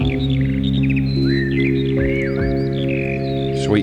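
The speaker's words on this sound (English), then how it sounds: "Oh God, there's birds on it." Birdsong on a music record, quick chirps and twittering phrases from several birds layered over sustained instrumental tones, moderately loud and steady.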